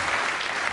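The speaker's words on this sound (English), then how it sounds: "Al Murray, give him a round of applause" A brief, dense burst of studio audience applause at a comedy panel show, steady even clapping throughout.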